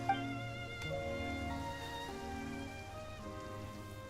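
Rain falls steadily in the video game Genshin Impact's Fontaine region, a soft continuous patter heard faintly beneath sustained musical tones, with no speech.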